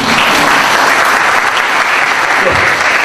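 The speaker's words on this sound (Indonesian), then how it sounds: "Tepuk tangan." An audience applauds at an alumni gathering, a dense and loud continuous wash of many hands clapping that holds steady throughout.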